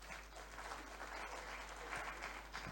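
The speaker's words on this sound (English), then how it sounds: "You deserve all the applause" Audience applause following a conference presentation: sustained, dense clapping from a crowd, steady and fairly loud throughout with no talking.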